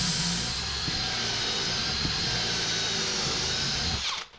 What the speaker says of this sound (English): Now I'm going to tack these side panels down to the cabin top with Craig screws.